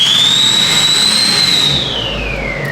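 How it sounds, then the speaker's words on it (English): Turbocharged Duramax diesel engine fitted with a 9-blade turbo revving, its loud high-pitched turbo whistle rising and holding before spooling down, heard up close with no voices over it. "we're going to go ahead and rev this girl up"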